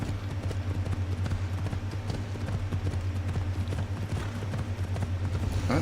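Steady, rapid hoofbeats of a galloping horse in the video game Assassin's Creed Odyssey, loud and close, over a constant low hum.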